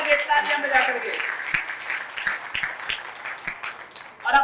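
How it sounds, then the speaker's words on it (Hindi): Audience applause at a birth-anniversary gathering at Mani Lakshmi Dhaam in Ludhiana, a steady wash of clapping lasting several seconds, fairly close and full, with talk at the start. "तालियां बजा करके, तालियां बजा करके"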